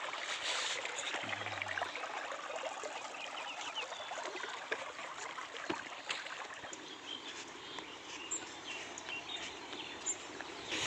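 A small waterfall beside an old Shiva temple at Madhota pours into a flowing stream, giving a steady broadband rush of water with no pauses, moderately loud and continuous throughout with no voices.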